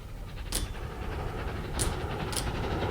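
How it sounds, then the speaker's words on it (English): A train passes by without stopping at a station, heard as a low, continuous rumble of moving carriages with a few sharp, brief hissing bursts over it, and no talking. "There's the train."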